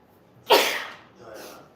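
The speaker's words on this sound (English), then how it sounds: "I feel like I'm gonna sneeze." One sharp, close human sneeze bursts out, followed by a softer exhale a moment later.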